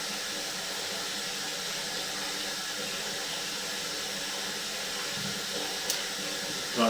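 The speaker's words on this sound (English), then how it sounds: "we're trying to flush some more water through it" Water flushing through a clogged drain line at a house, a steady broadband rushing hiss that continues evenly throughout, fairly faint and close, with a small knock near the end.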